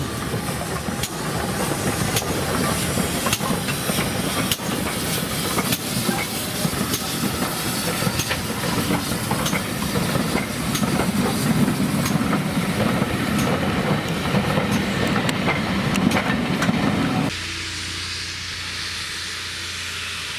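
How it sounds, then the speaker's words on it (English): A GWR steam locomotive pulls away from Toddington station with loud, continuous hissing from its open cylinder drain cocks and rhythmic chuffing, then the hiss cuts off, leaving a quieter engine hum. "The driver keeps these cylinder drain cocks open to displace any water"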